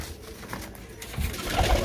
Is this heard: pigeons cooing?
yes